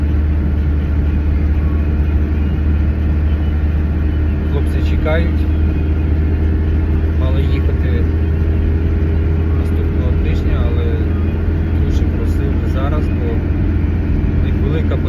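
A vehicle's engine hums and rumbles steadily from inside the cabin while it drives on the road toward the Donetsk region, with road noise throughout and people talking over it.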